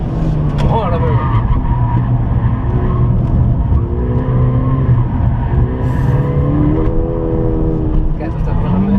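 A Ford Fiesta ST200 is pushed hard on a track at Can Padró, and its engine drone rises and falls through gear changes while tyres squeal and skid in the cabin recording.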